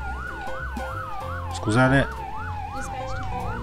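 A fire truck siren in the Firefighting Simulator The Squad video game wails in a steady rising and falling cycle, loud and close over engine rumble, with a brief burst of a voice speaking midway.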